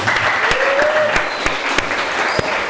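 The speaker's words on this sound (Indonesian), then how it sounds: "beri aplaus kepada Pak Al Fatri" An audience at an Indonesian high school culture and language week event applauds, a dense, sustained patter of clapping with a few louder individual claps standing out.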